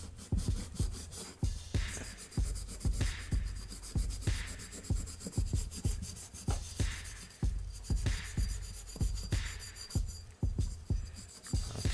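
Rhythmic scrubbing strokes of a Scotch-Brite pad against an RC engine's exhaust pipe caked with burnt fuel, a steady repeating rasp about once a second, close and fairly quiet with no talking.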